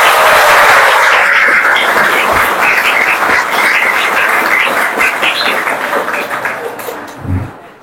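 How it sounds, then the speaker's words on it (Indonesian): Audience applause at a school anti-drug outreach event at a senior high school, dense clapping from a large crowd that starts loud and slowly thins out toward the end. "Tepuk tangannya dulu"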